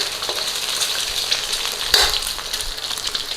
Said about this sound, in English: we're probably going to crack 2 eggs in there. Nice and steady. Get the eggs in.